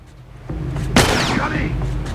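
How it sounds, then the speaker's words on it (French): Enemy gunfire in The Last of Us Remastered on PS4 at a power plant, a sharp loud shot near the middle followed by a whizzing ricochet, with smaller pops around it over a low rumbling backdrop. "Je sais pas sur qui ils tirent"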